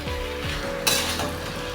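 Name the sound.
chicken sautéing in a pan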